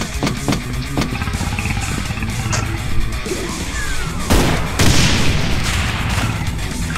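Gunfire in Brutal Doom 2018, playing the Doom II HontE Reloaded mod in GZDoom: loud, harsh blasts and crashing booms burst over a constant noisy game roar, with one heavier explosive hit near the middle.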